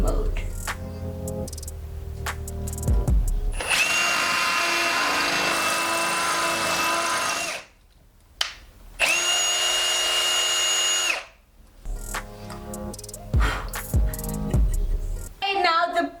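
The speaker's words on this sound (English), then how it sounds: "So I am now changing my drill from drill mode to hammer mode." A power drill in hammer mode bores into a wall, producing two long, loud, rattling bursts separated by a short pause, with quieter handling noise and speech around them.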